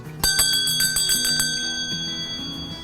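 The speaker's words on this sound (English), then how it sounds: "the day would begin with the ring of the school bell, either from a simple bell tower on top of the school or a handbell from the teacher" A teacher's handbell for a one-room schoolhouse is shaken, giving a rapid series of bright, close metallic rings that decay into a lingering shimmer.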